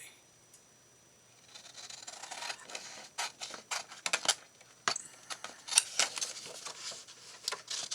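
Scissors snip through paper for a coffee-themed journal page, with a series of short, close cuts and rustles after a quiet start.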